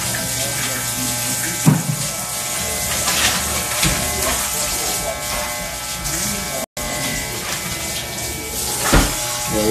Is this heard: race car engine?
no